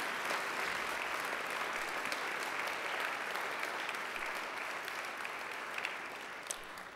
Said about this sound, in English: I'm sure you'd also like to give them a round of applause